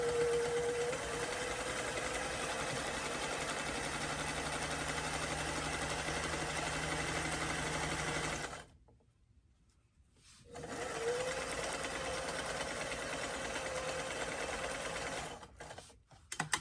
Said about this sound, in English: Using a 1/4 inch seam, I'm going to sew the side seam.